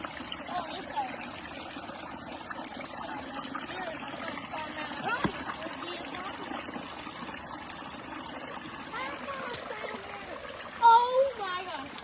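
Creek water trickling and splashing over rocks, a faint, uneven burble beneath children and adults talking, with a brief louder splash near the end.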